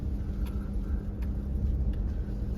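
A truck engine labors up a very steep mountain road, a steady low rumbling drone that holds loud and continuous throughout with no speech.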